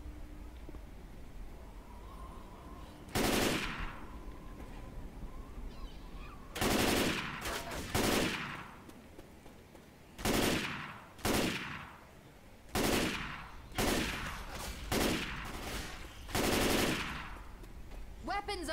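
Rapid bursts of M16 rifle fire in Left 4 Dead 2, about nine loud volleys of varying length spaced across the clip, with quieter game ambience and faint voices between them.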